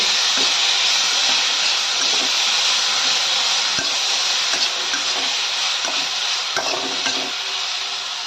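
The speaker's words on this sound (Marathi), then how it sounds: "आता टमाट टाकून टमॅटो आपल्याला एक दोन मिनटं शिजवायचे" Tomatoes cooking in a pan for a green chilli thecha give a steady, close hiss and sizzle, broken by a few soft stirring clicks, with no voices.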